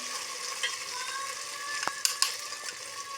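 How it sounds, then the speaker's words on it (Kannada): Ajwain tempering in hot oil for a colocasia leaf dish, sizzling steadily up close with a few sharp spoon clinks and stirring sounds near the end and no voices. "ಈಗ ಒಗ್ಗರಣೆ ಹಾಕ್ತಾ ಇದ್ದಾರೆ."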